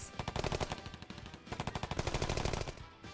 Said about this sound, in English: Bullets were fired.